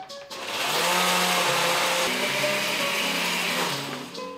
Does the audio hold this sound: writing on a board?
no